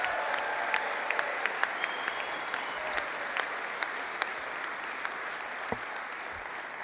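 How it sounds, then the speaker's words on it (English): Audience applause at a St. Louis MLS soccer team announcement press conference, a steady, fairly quiet spread of clapping with scattered sharper individual claps running the full length. "Let's give them a big round of applause."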